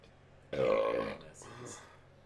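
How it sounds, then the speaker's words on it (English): A man lets out a single loud, drawn-out burp close to the microphone, followed by a softer trailing exhale. "That was a hot burp."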